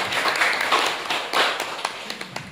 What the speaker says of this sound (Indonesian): Kita berikan tepuk tangan kepada beliau.